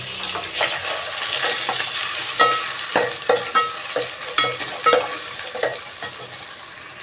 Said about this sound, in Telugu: ఇప్పుడు ఇవన్నీ వేగాయి కదా, మసాలా ఆనియన్స్ అన్నీ వేగాయి కదా